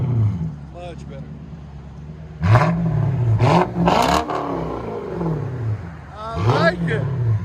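A Lexus engine revs hard through a dual X-pipe exhaust, rising in several loud, throaty bursts with deep burbling between them, close by, and people talk over parts of it.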